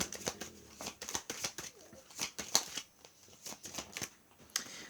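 Tarot cards shuffled by hand in a steady run of crisp riffling flicks and soft slaps. The cards sound close and fairly quiet, with a brief brighter snap partway through and no talking.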